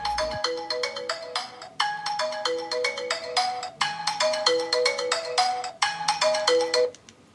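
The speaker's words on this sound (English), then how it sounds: "you can easily press the button on the cube to ring your phone" A smartphone ringtone plays, set off by the button on a CUBE Bluetooth tracker: a bright, repeating melodic tune in several short phrases, heard clearly and alone, with no talking over it.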